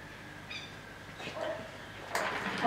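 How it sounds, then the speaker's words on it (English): Dog barking somewhere away from a CNC router workshop, a few faint, short yelps and barks in the second half over quiet room tone. "Excuse the barking dog."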